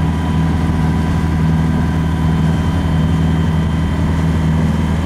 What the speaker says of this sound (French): Et le bruit de fond, c'est le moteur.